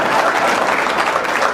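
Audience applause fills a hall at a comedy performance, a steady, dense wash of clapping from many hands that holds at even loudness throughout with no speech over it.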